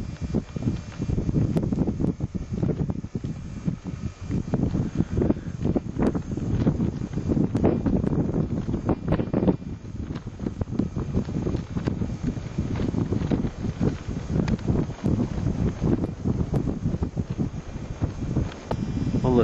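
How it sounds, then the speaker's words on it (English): Strong wind on an Iceland ski crossing buffets the microphone continuously in heavy, uneven gusts, a loud rumbling roar with no letup. "It's too windy."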